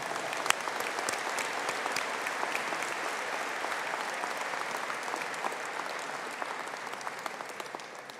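Steady, even applause from a large audience at a university conferring ceremony for business and hospitality graduates, a dense sustained patter of clapping from a moderately distant crowd.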